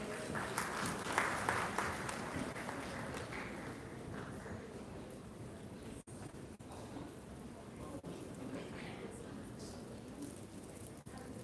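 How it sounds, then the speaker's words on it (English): Audience at an education awards conclave breaks into sustained applause, dense clapping that is loudest at the start and then holds steady for several seconds without speech. "Can we have a big round of applause?"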